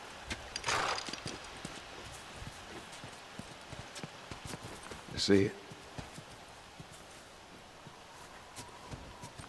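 A horse's hooves clip-clop in The Last of Us, with sparse, irregular steps under a character's voice and a soft rain-like background hiss.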